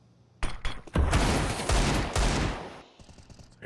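Burst after burst of gunfire in Counter-Strike during a tournament match, dense and chaotic, with heavy shots running together for a few seconds before thinning out.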